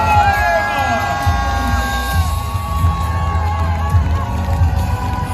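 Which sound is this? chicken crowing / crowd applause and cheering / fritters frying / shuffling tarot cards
crowd applause and cheering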